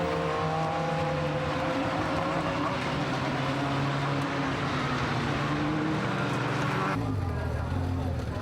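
Radical race cars in an enduro roar past in a dense, continuous engine drone with shifting pitches, loud throughout and mixed with a commentator's voice; the tone drops abruptly near the end as one car passes.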